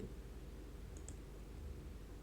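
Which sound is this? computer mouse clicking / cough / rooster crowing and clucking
computer mouse clicking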